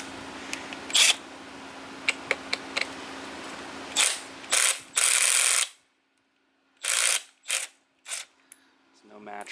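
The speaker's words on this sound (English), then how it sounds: "I have the right angle impact gun, which puts out an enormous amount of torque." A 12-volt right-angle impact gun hammers at a stuck nut on a vintage Honda CT70 engine, loud close bursts of rapid rattling impacts, a few short taps then longer runs separated by silence.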